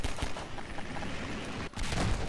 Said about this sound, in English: laser designated rocket strike